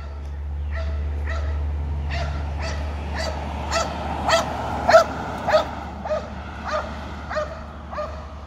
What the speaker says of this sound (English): I hear the happy dog again.